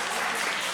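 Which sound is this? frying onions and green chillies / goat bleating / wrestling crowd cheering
wrestling crowd cheering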